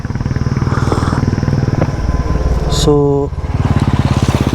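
A Honda CB350 motorcycle engine idles close by with a steady, throbbing beat, briefly broken by a higher mechanical whine; a voice speaks a single word.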